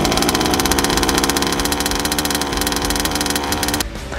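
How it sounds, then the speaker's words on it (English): A small gas engine on a Rovan HPI Baja 5B 1/5-scale RC car runs loud and close with a rapid, buzzy idle, then drops off abruptly near the end. "Then, pull the engine 2 to 3 times or until it starts."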